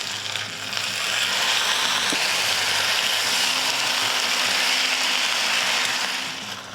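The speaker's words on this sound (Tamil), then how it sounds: "அந்த தக்காளி சேர்த்துக்கிறேன்" Tomatoes going into a frying pan of sautéing onions for a spicy chutney, a loud, steady sizzle and hiss lasting several seconds, with faint clinks of a spoon against the pan.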